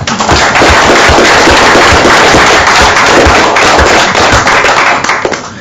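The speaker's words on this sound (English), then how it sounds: "I think he deserves a round of applause." A sustained round of applause fills a council meeting room, dense overlapping hand claps from a crowd, loud and steady throughout before easing slightly at the end.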